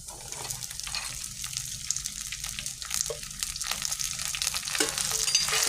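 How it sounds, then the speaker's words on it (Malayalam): Small shallots with curry leaves sautéing in a pan for a quick Kerala-style beef roast, a continuous bright sizzle with occasional scraping stirs, close and fairly loud, no talk. "നമ്മുടെ ഉള്ളിയൊക്കെ നന്നായിട്ട് വഴണ്ടിട്ടുണ്ട്"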